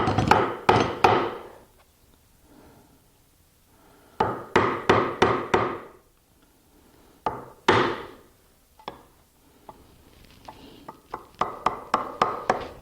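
A chisel struck into wood along a marked line when fitting a hinge, heard as close, sharp mallet blows in quick bursts of three to five, separated by short pauses.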